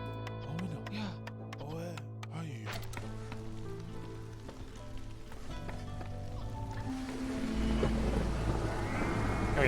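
Steady rain and rolling thunder from a storm in the Against the Storm video game, a continuous wash of downpour with low rumbles that swells louder toward the end, mixed with tonal game sounds.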